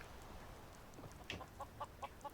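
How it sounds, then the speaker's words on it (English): A chicken clucks in the Skyrim video game, a faint series of four or five short evenly spaced clucks following a brief louder squawk, heard over a quiet ambient background. "That's a chicken."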